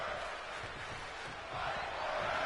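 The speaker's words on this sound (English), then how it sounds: "This crowd is absolutely loving this match." A wrestling arena crowd in WWE2K22 cheers in a steady, dense roar that swells louder toward the end, with a faint voice underneath.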